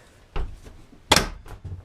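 Medicine cabinet door behind a bathroom mirror in a 2017 Airstream Flying Cloud 20C Bambi travel trailer, heard as a few soft thunks and one sharper clack of the door opening, close and quiet.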